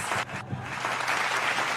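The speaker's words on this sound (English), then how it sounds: "The hand clap was the one I was looking for." A radio breakfast show plays a hand-clap sound effect, a loud, continuous burst of crowd-like clapping with a brief dip near the start.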